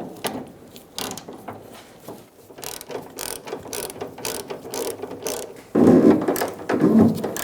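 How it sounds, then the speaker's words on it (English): Ratchet fitted with an extension and socket turning a fuel tank strap bolt on a 2002-2006 Toyota Camry, with rapid pawl clicking in repeated strokes, close and fairly loud, and heavier metallic working near the end. "Let's get our bolt started. I'm using an extension and a socket."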